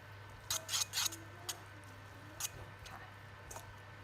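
Cooked vegetable noodles are tossed with an olive oil spray, giving several soft, wet squishing bursts in short clusters over a faint steady hum.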